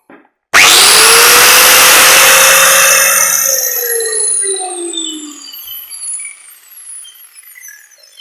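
An angle grinder switches on with a sudden loud whine that holds steady for a few seconds, then the motor is cut and the disc spins down, its pitch gliding lower and fading over several seconds.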